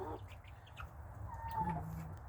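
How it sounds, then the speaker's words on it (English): Chickens and roosters in a coop give soft, scattered clucks and short calls, fairly faint over a steady low background rumble. "it's not keeping the roosters out"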